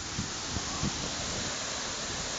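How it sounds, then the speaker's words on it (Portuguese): Heavy, cold drizzle falls near a waterfall, making a steady, dense broadband wash of water noise with a few soft low thumps close to the microphone. No one speaks. "Garoa muito forte."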